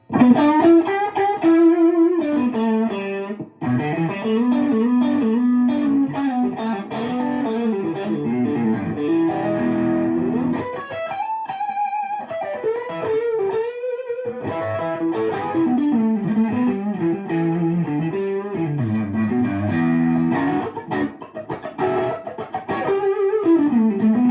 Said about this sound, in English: I'm just using a tube screamer through my deluxe reverb.